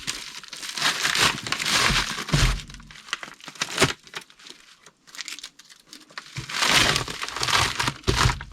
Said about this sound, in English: we're just gonna get a padded flat rate envelope. Just slide it in.